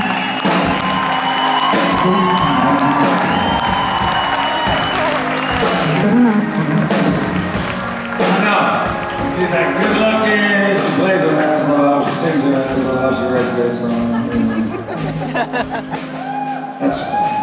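A crowd at a concert in Berlin cheers, whoops and shouts for a long, loud, sustained stretch, with music and voices mixed into the noise.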